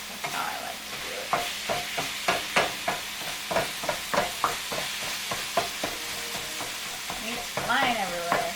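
Ground meat for lasagna fries in a pan under a constant sizzle, punctuated by a steady series of scraping stirs and clacks of a utensil, close up, with brief voice-like sounds near the end.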